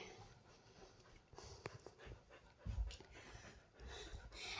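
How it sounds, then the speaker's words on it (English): A pet dog pants quietly indoors in a bedroom, soft breathy huffs repeating irregularly with a few small movement noises, fairly faint and close by. "And this is my dog that's always following me around."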